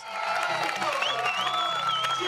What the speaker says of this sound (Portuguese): sendo recebidas com muitos aplausos